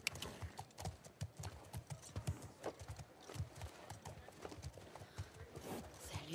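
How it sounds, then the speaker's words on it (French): Rapid clip-clop of horse hooves on a hard surface in the video game The Last of Us Part II, steady and close, with a brief whinny breaking through partway along. "Ah, notre cheval."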